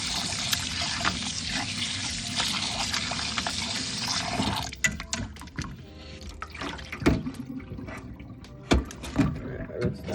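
Saltfish is rinsed under running water: a steady hiss of the flowing tap for about four seconds, then irregular splashes, drips and handling sounds as the fish is moved around.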